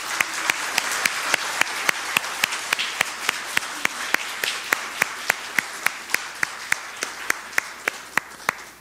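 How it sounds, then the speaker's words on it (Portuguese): A church congregation claps together in a steady, even rhythm, each sharp beat standing out over a dense wash of scattered clapping that holds at the same level throughout. "Eu queria uma salva de palmas para elas."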